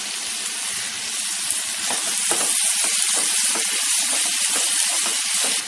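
Tomato and coriander hitting hot oil for kolambi (prawn) chutney, giving a loud, steady, close sizzle with faint stirring clicks underneath.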